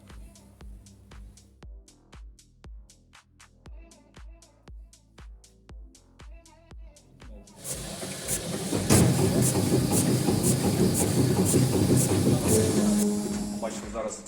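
An industrial meat dicer's motor runs with a steady mechanical drone and regular rhythmic thumps, then grows louder and busier with grinding and hissing noise as it cuts meat.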